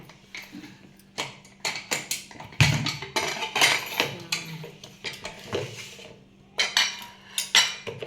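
A pressure cooker holding boiled sweet potatoes is opened, giving a run of sharp metallic clanks and taps from the lid and pot at close range, irregular and separated by short pauses.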